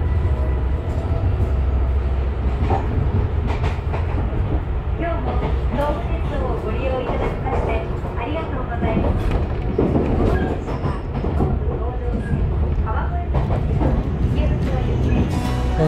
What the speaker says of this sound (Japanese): 16時43分、いろいろ撮影してたら列車は出発していた